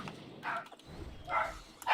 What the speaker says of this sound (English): my dog is now barking